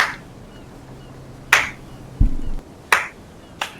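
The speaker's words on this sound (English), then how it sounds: "I'll also start slow clapping too." Slow, deliberate clapping, four sharp, isolated claps spaced well apart against a quiet background, with one duller thump between them.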